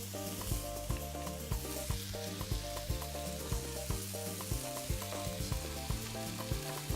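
Peppers and onions cook in a pan, a soft continuous sizzle with a repeating rhythmic clatter of stirring, quiet and close, no talking.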